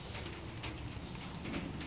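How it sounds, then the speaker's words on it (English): Light rain falling outdoors, a soft continuous patter with scattered drops, faint and steady, with a possible bird coo in the background. "It's raining."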